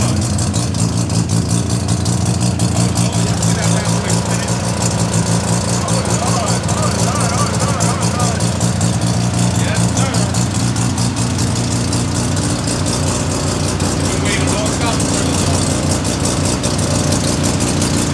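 A Honda Civic EG with a D16 engine and full exhaust runs steadily for the whole stretch, its low engine drone close and loud while people talk over it throughout.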